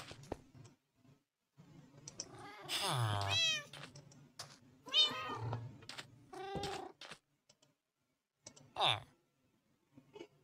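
Minecraft cats let out several separate meows, some drawn out and wavering, scattered across the stretch with quiet gaps between them, alongside keyboard clicks and a person talking.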